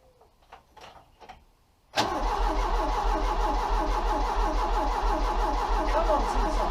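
A Ford Cortina Mk3 Estate engine cranks briefly after a few faint knocks, then fires abruptly and settles into a loud, steady, rough idle close by that continues to the end.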